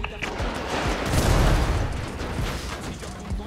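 Dense gunfire in a gang shootout video game as players shoot at a truck's engine, a continuous loud barrage of overlapping shots and booms that fills the whole stretch.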